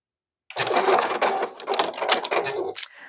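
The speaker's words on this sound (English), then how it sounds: "as I'm sewing down this unit." A sewing machine stitches a quilt block in a steady, close mechanical whir that starts abruptly, pauses briefly a few times and resumes, ending with a quick clack and a short tail of motor hum.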